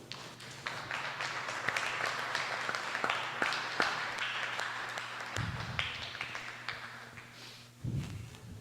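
Congregation at a church service applauding after a call to praise the Lord, a sustained wash of mid-distance clapping with a few sharp close claps, fading and then swelling briefly again near the end.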